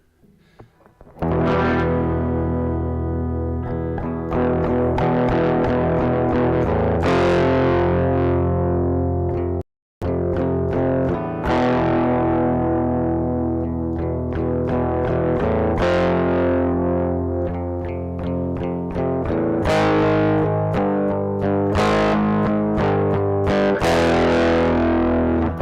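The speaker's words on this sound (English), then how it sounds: "you can hear that's a distortion, definitely, as it would really pump that up." Heavily distorted electric guitar chugs in loud, sustained palm-muted bursts, saturated with a Saturator app on iOS, with one brief cut to silence partway through before the riffing resumes.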